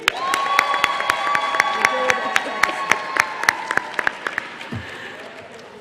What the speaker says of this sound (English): So we're clapping for group 3.